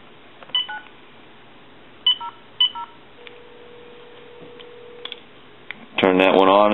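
Dialing out on a second telephone connected to a TA-1/PT military field telephone setup, with several short separated bursts of dial tones and a faint hum, followed by a voice at the end.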